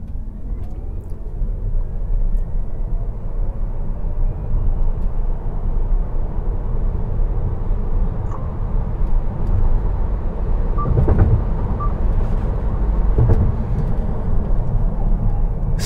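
An MG Windsor EV electric car accelerates at full throttle, heard from inside the cabin as a loud, steady road and wind roar with a faint rising whine.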